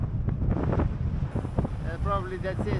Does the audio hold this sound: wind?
yes